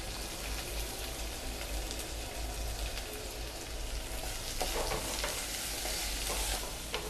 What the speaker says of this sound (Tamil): சின்ன வெங்காயம், பச்சை மிளகாய் எல்லாத்தையும் போட்டு நல்லா வதக்கிக்கலாம்.